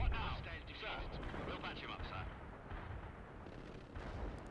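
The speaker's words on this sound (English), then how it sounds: "they're shelling me" Artillery shelling in the World in Conflict strategy game, a dense rolling rumble of distant shell impacts and blasts, with someone speaking over the bombardment.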